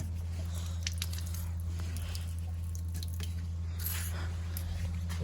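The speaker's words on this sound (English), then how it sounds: "That's the 80 litre grey water tank, and all the water just shoots out here." Water from an 80-litre grey water tank on a caravan pours out of its outlet, giving a steady, soft rushing and dribbling wash over a constant low hum, quiet and unbroken throughout.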